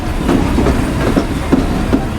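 The Mahananda commuter train running on the rails between Khulna and Jessore, with steady rumble and repeated clickety-clack beats from the wheels over rail joints, heard close from inside the carriage.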